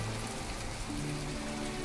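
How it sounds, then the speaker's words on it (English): Steady, dense rain falling in the video game My Time at Portia, an even wash of pattering drops on surfaces with no pauses, moderately loud and with no voices. "scratch the brightness, it's raining"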